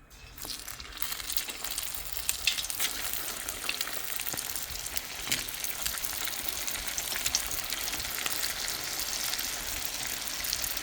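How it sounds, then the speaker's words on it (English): A batch of food deep-fries in oil heated to about 380 degrees, producing a continuous bright bubbling sizzle with scattered crackles and pops, steady and close for the whole stretch, no speech. "we're gonna let these deep fry in here until they get nice and golden"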